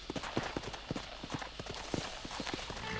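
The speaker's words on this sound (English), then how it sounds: "I'm on a horse now." Horse hooves clip-clop at a steady trotting rhythm in Red Dead Redemption, close and clear over a dense game ambience, with no speech.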